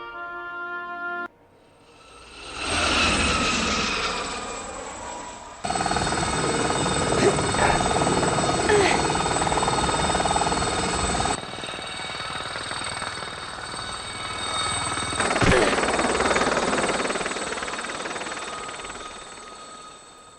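Plane in Tomb Raider 2 droning overhead, a sustained engine roar with a tonal hum that swells, cuts out and returns in separate stretches, with game sounds between them and no voices.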